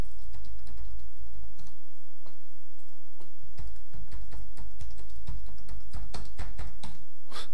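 A Windows server password being typed on a computer keyboard, a close run of crisp, uneven key clicks with brief pauses, loud and steady against a low hum.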